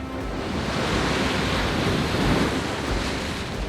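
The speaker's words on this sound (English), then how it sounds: "The shoreline changes dramatically with the tides, and is mostly made up of jagged rocks, relentlessly pounded by waves." Waves pound a jagged rocky shoreline, a steady, dense roar of surf churning without pause, with wind buffeting the microphone and no voices.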